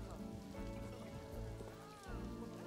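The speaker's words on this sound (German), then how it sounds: "Oh, toll, Regen." Steady rain falling in the zoo-management video game Planet Zoo, a soft continuous patter under someone speaking.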